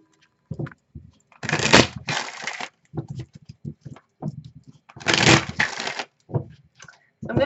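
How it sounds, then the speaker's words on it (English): Tarot cards shuffled near the microphone during a Celtic cross reading, two long papery riffle bursts separated by short taps, clicks and handling sounds, with quiet gaps between. "I'm going to be fanning out the cards more just to cut down on the shuffle time and the noise and all that."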